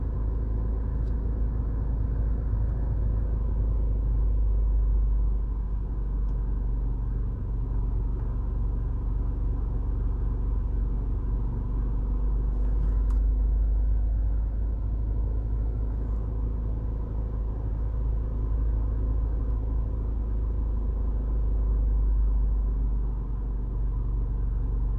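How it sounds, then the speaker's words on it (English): Heavy road traffic on the hip strip, Jimmy Cliff Boulevard, in Montego Bay, Jamaica: a continuous low rumble of car and truck engines, close and steady, with no voices. "And there is some serious traffic."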